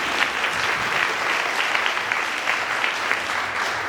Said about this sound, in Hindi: एक बार जोर से ताली बजा दीजिए।